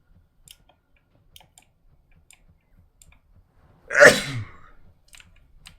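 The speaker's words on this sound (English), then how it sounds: "Sneeze is coming." A single loud, close sneeze bursts out and trails off quickly, surrounded by faint scattered clicks in an otherwise quiet room.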